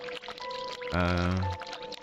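Water pours into a glove in a dark horror adventure game, a short steady rush of liquid lasting about half a second, loud and close, with a faint tone underneath.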